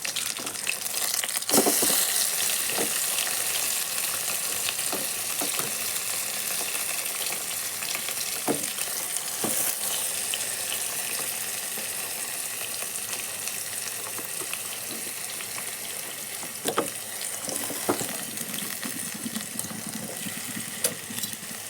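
Shallots and tomatoes fry in a pan at home, giving a steady wash of sizzle with occasional sharper clicks of a spoon stirring, close and even throughout, with no voices.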